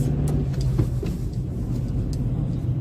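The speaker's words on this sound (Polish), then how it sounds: "Teraz znowu stromą pojedziemy pod górę" A car climbs a steep hill through a mountain neighbourhood, heard from inside as a steady low engine and road rumble with faint rattles, and no talking.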